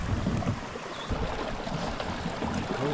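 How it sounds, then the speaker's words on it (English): A small waterfall pours through rocks off a river in the Boundary Waters, giving a steady broadband rush of splashing water, close and continuous, with no voices. "A small waterfall flows through the rocks."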